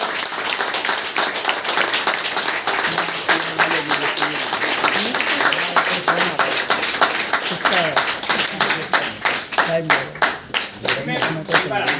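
Enthusiastic audience clapping at a gathering for a community leader, loud and close, with a rhythmic beat emerging in unison claps and voices audible beneath throughout.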